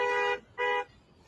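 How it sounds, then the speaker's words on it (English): Horns honking at the 2022 trucker convoy protest in Ottawa, two short loud toots in quick succession, followed by quieter background noise. "Honk, honk, honk."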